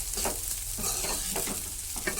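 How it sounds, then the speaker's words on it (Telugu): Egg fried rice stirred over high heat in a pan, a loud continuous sizzle broken by repeated rhythmic scraping strokes of the spatula, close up and without speech. "దగ్గరుండి హైలో పెట్టి కలుపుకోండి"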